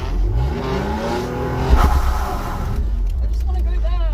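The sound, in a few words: car engine revving while drifting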